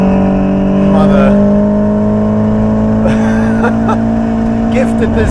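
A Ferrari 488 Pista fitted with a Novitec exhaust holds a loud, droning engine note with a slight rise and fall in pitch, sounding close by, with voices partly over it.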